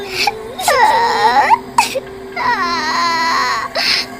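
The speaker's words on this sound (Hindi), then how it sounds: "किसी औरत के रोने की आवाज आती है" Loud, close sobbing of a woman in rising and falling wails, two long crying bursts separated by a brief gasp.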